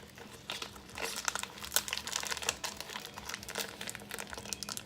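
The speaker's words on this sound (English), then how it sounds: "You just cut it out of the packaging" Plastic packaging crinkles and tears while soy chorizo is cut out of it, giving a busy run of soft crackles and rustles at close range and moderate loudness.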